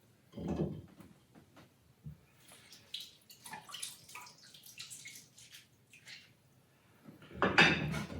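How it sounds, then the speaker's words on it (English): Rum punch with lemon and lime stirred in a small punch bowl: scattered liquid swishes and light clinks, with louder splashing bursts near the start and end and no talking. "Give it a stir to make sure that all the ingredients are well mixed."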